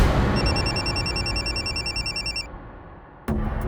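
A telephone rings with a loud, close, repeating electronic tone that stops partway through, followed by a sudden burst of sound near the end.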